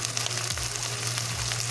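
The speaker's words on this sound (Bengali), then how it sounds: "ভালো করে আমি একটু কষিয়ে নেব মশলা" Ground spices frying in a pan, part of a Bengali-style creamy egg and brinjal curry: a steady close sizzle and crackle with no talk over it.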